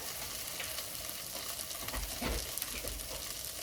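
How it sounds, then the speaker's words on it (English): Paneer cubes fry in a pan with leftover turmeric, giving a steady close sizzle with a brief louder burst of stirring midway and no talking. "you can see the paneer cooking and picking up the turmeric that was left over in the fry pan"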